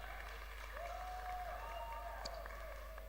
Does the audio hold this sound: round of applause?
yes